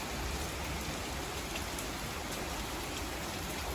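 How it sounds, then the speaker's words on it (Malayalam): Heavy rain falls during a thunderstorm, a loud, unbroken wash of drops hissing on surfaces close by with no voices or thunder standing out. "ഇന്ന് പക്ഷെ നല്ല മഴയും ഭയങ്കര തണ്ടസ്റ്റോമാണ്."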